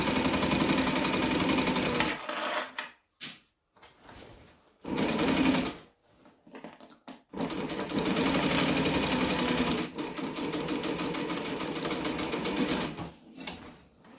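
A sewing machine stitches a seam on a large bag, running in loud steady bursts with short pauses between runs, including a rapid back stitch near the end; no talking.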